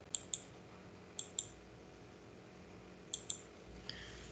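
A computer mouse gives a few quiet paired clicks, two quick presses in each pair repeated three times, against a steady background hum.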